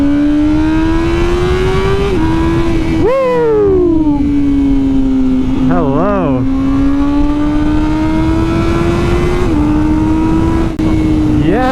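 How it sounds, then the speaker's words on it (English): Honda CBR1000RR-R Fireblade SP motorcycle engine while riding: a loud, continuous drone with revs rising and dipping through gear changes, and a few brief shouted exclamations from the rider. "I like the sound, like the sound that the bike is putting out."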